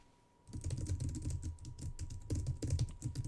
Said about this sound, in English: I'm just going to do a keyboard check.